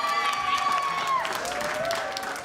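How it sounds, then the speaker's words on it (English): An audience at a beauty pageant applauds and cheers, a dense run of clapping with crowd voices and a few tonal sounds riding on top, steady and fairly loud, then easing slightly toward the end. "Round of applause."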